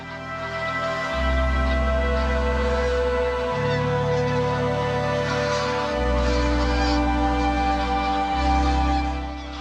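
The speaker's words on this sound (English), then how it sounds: "there's lots of grey lag geese here today" Greylag geese honk in deep, blaring, long repeated blasts, alternating in pitch, loud and steady with no talking.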